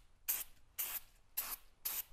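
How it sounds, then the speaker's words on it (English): Brake cleaner sprays onto the clutch surfaces of an Austin-Healey in four short, evenly spaced hissing bursts, close and bright, with quiet gaps between. "Just a little bit of brake clean."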